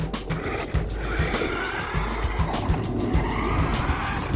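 A modified New Bright Defender RC car drives close by with its small motor whirring and tires scrabbling and spinning in repeated short bursts.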